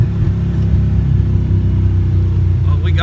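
A Fox Body car engine brakes with a loud, deep rumble heard from inside the car. The low drone holds steady, and a voice talks briefly near the end.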